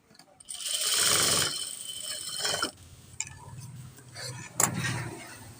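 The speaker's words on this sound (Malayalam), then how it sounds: "ലൈനിങ് പീസ് അങ്ങോട്ടും ഇങ്ങോട്ടും ചേഞ്ച് ആവാതിരിക്കാൻ ഇതുപോലെ ഒന്ന് സ്റ്റിച്ച് ചെയ്ത് കൊടുക്കാം" A sewing machine stitches a churidar lining piece, whirring in close mechanical runs that start and stop between brief handling clicks.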